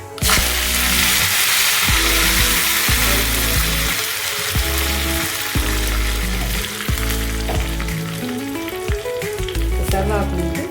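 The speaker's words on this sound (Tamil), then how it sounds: "நல்லா பொரிஞ்சிச்சு." Spices tempering in hot oil for a tomato chilli chutney, frying and spluttering with a loud continuous sizzle and crackle, punctuated by sharp pops and stirring clatter, with no talk.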